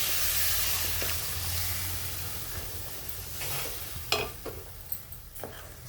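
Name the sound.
stirring besan batter with turmeric and salt in a hot pan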